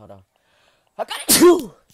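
A single loud, close sneeze bursts out after a short spoken line, with a brief quiet gap between them.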